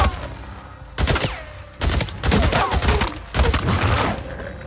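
Gunfire in the video game Days Gone comes in loud, close bursts, several volleys separated by brief pauses, with rapid shots blending into dense fusillades.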